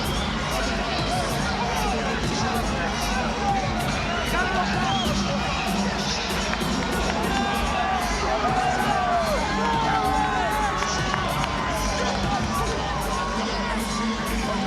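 A showbiz arena crowd roars for heavyweight boxer Lennox Lewis walking to the ring before his fight with Vitali Klitschko, a dense, continuous wall of cheering, whoops and shouting babble that stays loud throughout.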